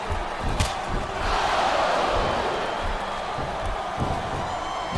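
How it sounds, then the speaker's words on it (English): Arena crowd from a WWE SmackDown vs Raw 2007 wrestling match between Viscera and Chris Masters swells into a steady roar of cheering, with a few sharp slams or thuds breaking through near and mid-distance. "I think these superstars are getting some feedback from the crowd"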